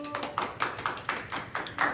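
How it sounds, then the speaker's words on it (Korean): Applause at a church youth service, a burst of hand claps with short rhythmic pulses, fairly close and moderately loud, with no talking over it. "박수"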